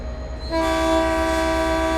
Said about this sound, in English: set direction, release the brakes, and apply power to get moving